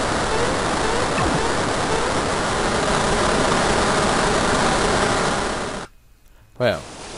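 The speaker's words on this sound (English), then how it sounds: "Water, here it comes." Water gushes in the Super Mario RPG video game as a loud, continuous roaring rush that holds steady for several seconds, then cuts off abruptly, followed by a brief soft effect.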